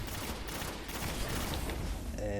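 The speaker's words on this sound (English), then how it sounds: "wait for these maniacs to stop shooting" Rapid gunfire rattles through a Destiny firefight, a dense continuous fusillade of shots that sounds distant and muffled, with faint speech mixed in underneath.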